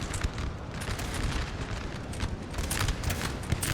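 Massed infantry musket volleys in a Napoleon Total War multiplayer battle, with Waldeck infantry and grenadiers firing on hussars. A dense, continuous crackle of gunfire rolls over a low rumble, with no pauses and no voices.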